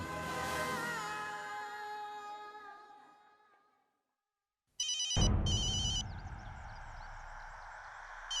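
A telephone rings twice with loud electronic trills, coming in abruptly after a fading musical passage and followed by a sustained tonal hum, with no voices over it.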